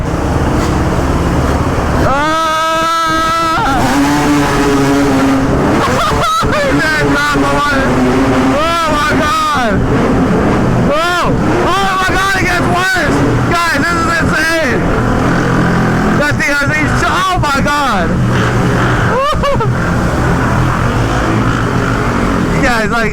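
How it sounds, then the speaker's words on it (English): A motorbike engine strains and bogs down while pushing through flash flood water, loud and close with revving that rises and falls, amid rushing water and excited shouting. "the bike is legit bogging down."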